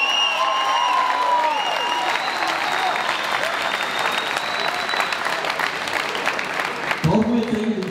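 A crowd at a boxing fight night in Visp cheers and claps after a world title final. Dense, continuous applause with shouts and a few ringing tones fills the clip, then cuts off sharply near the end.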